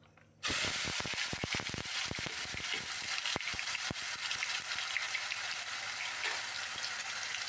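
Ground garlic and onion paste hits hot oil in a pan for a taro curry, bursting into a loud, steady hissing sizzle with spattering crackles that continues close up throughout.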